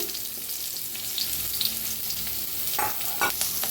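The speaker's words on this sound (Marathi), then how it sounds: "कांदा हलकासा भाजत आलाय बघू शकताय तुम्ही" Sliced onion frying in hot oil in a home kitchen, a steady close sizzle with occasional scraping stirs, louder bursts near the end.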